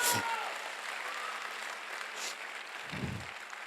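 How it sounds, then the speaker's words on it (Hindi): Applause from the crowd at a business leader's motivational speech, a soft, even rush of many hands clapping that holds steady throughout, with a couple of low thumps near the start and end. "मैं चाहूंगा अगले लोग तक एक जोरदार तालियां होनी चाहिए"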